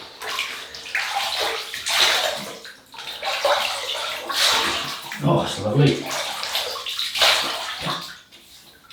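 Hot running water splashing and sloshing as a face is wetted for a shave, surging in repeated bursts close by, with someone speaking briefly over it.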